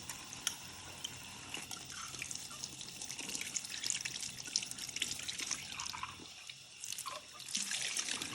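Running water splashes and trickles steadily as a glass etching stencil is rinsed under a tap, a continuous close wash with small drips and fluctuations throughout.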